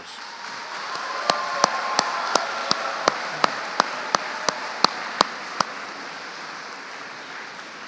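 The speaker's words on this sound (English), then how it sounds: "giving them a warm round of applause" Graduation ceremony audience gives a warm round of applause, a broad wash of many hands clapping, with a single nearby clapper standing out in sharp, evenly spaced claps before the applause fades.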